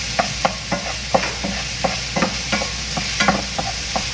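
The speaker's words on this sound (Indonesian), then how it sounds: "Ini ditumis dengan api yang sedang saja, jangan api terlalu besar." Apple pie filling sautés over medium heat in oil and sugar, with a spoon scraping and stirring in quick repeated strokes over a soft, steady sizzle, close and with no talking.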